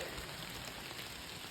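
Rain falls steadily on a rocky wilderness trail through a rock garden, a continuous close hiss of drops on stone and foliage with no break or talk.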